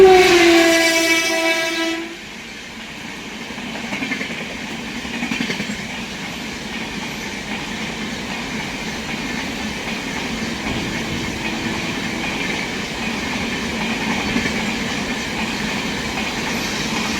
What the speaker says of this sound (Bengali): ওই যে দূরের গাড়িটা আসছে, দেখি কি আসছে, ওভারটেক মারবে আমাদের।